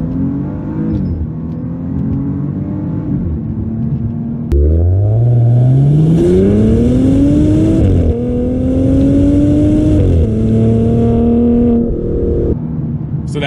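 A 2024 Maserati Ghibli Modena Ultima accelerates hard in sport mode, its loud, close exhaust note rising in pitch through the gears with brief dips at each shift, and no talking.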